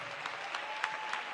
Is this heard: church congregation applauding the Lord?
yes